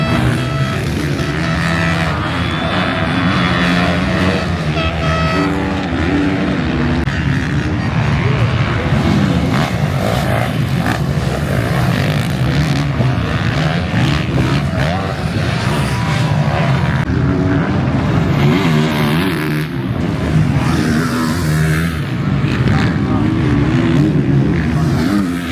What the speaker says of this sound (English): Jet come by and it's just raw. Then you hear Tomac and it's just raw